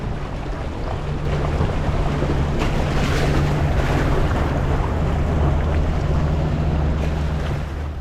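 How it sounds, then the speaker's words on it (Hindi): A waterfall of glacier water plunges from high above into the Kunhar river in the mountains of northern Pakistan, a loud, continuous rushing roar with a faint low hum underneath. "बहुत ही ऊपर से आ रही है वाटरफॉल, ऊपर से ग्लेशियर्स का पानी आ रहा है"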